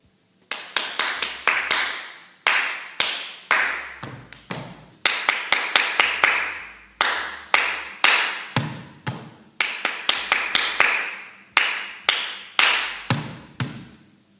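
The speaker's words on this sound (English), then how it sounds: "when they clap the rhythm, they will add two stamps at the end" A group claps a rhythmic pattern in unison, sharp close claps in repeating phrases, each phrase ending with two heavy foot stamps that land as low thuds.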